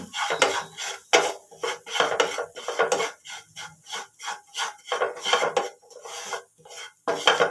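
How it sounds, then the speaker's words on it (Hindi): Garam masala, amchur powder and Kashmiri red chili powder are roasted in a pan for a green pea kachori filling, with a spatula scraping and rasping in a quick, rhythmic back-and-forth, close and steady, with no talking. "अब इन्हें अच्छे से हम भून लेंगे।"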